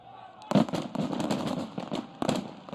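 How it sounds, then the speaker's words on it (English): Celebration cannons fire in a stadium after a score at an ultimate frisbee men's championship final, a sharp loud blast followed by a sustained crowd roar and a second burst near the end. "Light the cannons."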